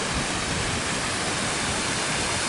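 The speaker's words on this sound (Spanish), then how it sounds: "El agua que desciende de la alta montaña" Mountain water cascading down over rocks, a dense, loud, unbroken rushing roar that stays even throughout, with nothing else heard.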